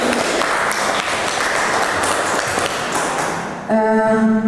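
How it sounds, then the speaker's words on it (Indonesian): Applause from a school audience at SMA Negeri 1 Cigudeg, a dense wash of clapping that fills the room for several seconds before giving way to a ringing tone. "Kita beri aplaus untuk kita semua."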